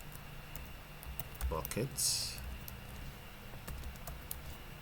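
Typing on a computer keyboard, scattered light key clicks over a couple of seconds, close and soft, with a brief spoken word in the middle.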